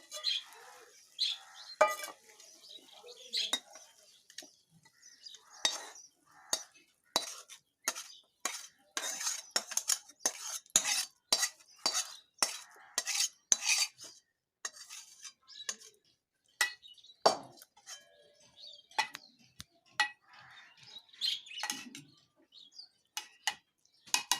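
Duck egg curry pot being lifted off the stove, with sharp, scattered metallic clinks and ticks of utensils and cookware in a quiet kitchen, irregular and fairly close, no voices.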